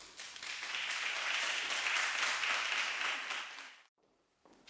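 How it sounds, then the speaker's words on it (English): An indoor audience at a UFS Bloemfontein campus student council announcement claps for about four seconds in a full, steady burst of applause that stops abruptly, leaving near silence. "may I please have a warmer round of applause?"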